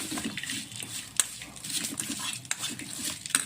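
A spoon scrapes and clinks against a bowl while papad is stirred into a chutney, with several light metallic taps and a soft rustle close by.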